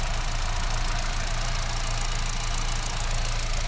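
A Kia Sonet's 1.2-litre four-cylinder 88 PS petrol engine idles steadily, a low even rumble with a faint mechanical knock running through it, close by and continuous, with no talking.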